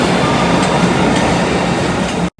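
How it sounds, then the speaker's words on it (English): A loud, steady roar of a subway train in motion, rumbling wheels and rattling cars, cutting off abruptly at the end. "took the subway a few stops to the area near our hotel"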